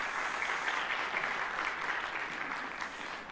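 Steady applause from a conference audience at a science talk, a dense, even wash of clapping that holds for the whole stretch with no break and no voices on top.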